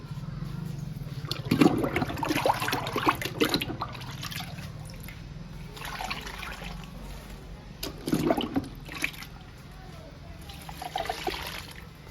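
Liquid pours in bursts onto potted Schefflera and Song of India houseplants, a soft trickling splash that comes and goes, close and fairly quiet, with faint voices in the background.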